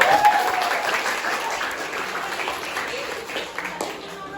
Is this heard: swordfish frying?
no